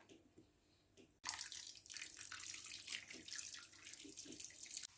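After a quiet second with faint kitchen sounds, water is poured onto almonds mixed with sugar and cinnamon, a sudden steady splashing pour that runs close and clear to the end.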